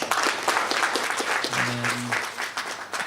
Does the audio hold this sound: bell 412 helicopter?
no